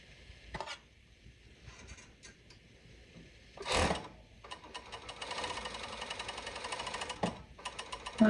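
Sewing machine stitching a seam on a baby doll garment during a sewing lesson, running in loud rhythmic mechanical bursts, one short burst near the start, a strong one in the middle, then a longer steady run of rapid stitching.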